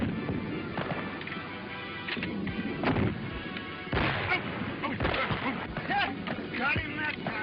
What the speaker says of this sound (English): You're shooting like a cross-eyed squall.